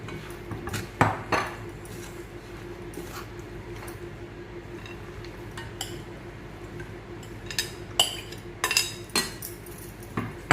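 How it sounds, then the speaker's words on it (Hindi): A spoon stirs chickpeas and raw mango pickle in a pot: soft squishy mixing under a steady low background, broken by sharp clinks of metal against the pot that come early and again in a cluster near the end. "सारी चीज़ों को मिक्स कर लेंगे।"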